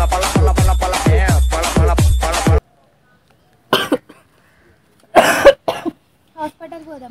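A man coughs in close, harsh bursts: a run of rapid coughs, then scattered single coughs and throat clearing separated by silence. Faint voices are also present.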